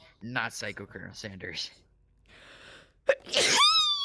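A single sharp sneeze bursts out after a moment of quiet, close and loud, following a stretch of casual conversation.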